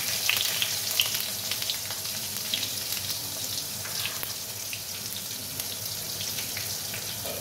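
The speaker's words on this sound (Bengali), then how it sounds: "শুধু শুকনো লঙ্কা আর গোটা জিরে এই দিয়ে আমি ফোড়ন দেব।" Dried red chillies and whole cumin seeds tempering in hot mustard oil for a bottle-gourd and lentil dal, a steady close sizzle and crackle of frying running throughout with no talking.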